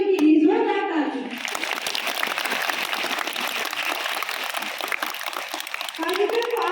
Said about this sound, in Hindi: एक बार फिर से हमारे सभी पूर्व नीतियों के लिए जोरदार तालियां